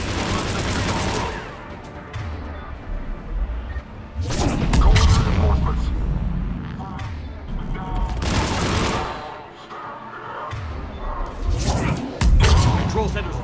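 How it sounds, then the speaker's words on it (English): Heavy cannon blasts boom in several separate bursts in the video game Mass Effect 3, with voices and rumbling action sounds filling the gaps between them. "The cannon fire is clearing the way."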